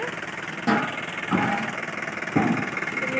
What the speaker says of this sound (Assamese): চিলিণ্ডাৰ গাড়ী আহি গ'ল দেখিছিলোঁ